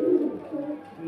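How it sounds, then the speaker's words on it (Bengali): A pair of Murshidabadi giribaz pigeons coo softly at close range, a low, rolling call repeated twice in quick succession. "মুর্শিদাবাদী গিরিবাজ পায়রা, একদম নিচে খুব সুন্দর বাজি"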